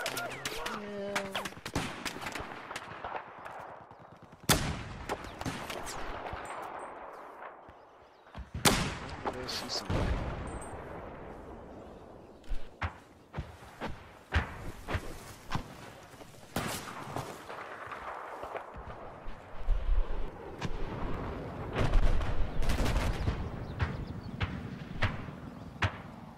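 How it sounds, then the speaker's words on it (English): In the naval combat video game Naval Strike, loud cannon blasts and sharp bursts of gunfire crack out again and again at uneven intervals, mixed with muffled battle noise and occasional voices. "I just got shot by a cannon"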